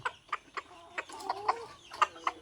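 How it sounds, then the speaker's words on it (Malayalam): A spotted rooster and hen from a breeding set cluck nearby, a series of short, sharp calls spaced irregularly with a few softer, drawn-out notes between them, heard alone without talk. "ഇത് നമ്മുടെ ബ്രീഡിംഗ് സെറ്റിലെ ഒരു പുള്ളിപ്പൂവനും പെടയാണ്."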